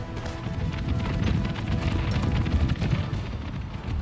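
Cavalry horses galloping across the battlefield in Empire: Total War, a dense rumbling patter of many hooves that stays loud and continuous throughout, with no voices.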